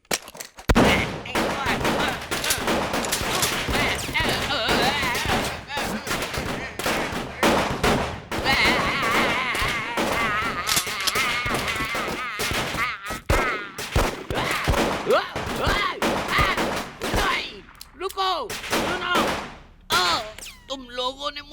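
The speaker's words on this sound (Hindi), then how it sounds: "तुम लोगों ने मुझ पर गोलियां चलाई" Rapid volleys of gunfire from a Hindi-dubbed Hollywood action film ring out as loud, dense bursts that run almost continuously before thinning out near the end.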